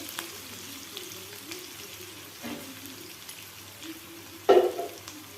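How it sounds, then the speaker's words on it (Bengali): Chopped onions frying in oil for a tadka chicken curry, a soft steady sizzle running throughout with a brief louder burst of stirring or spattering near the end. "পেঁয়াজটা ভেজে নিচ্ছি"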